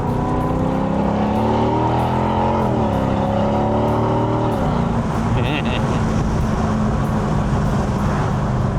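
A Mercedes SLK55 AMG engine revs up and accelerates with rising harmonics, shifts, then settles into a loud steady roar up close.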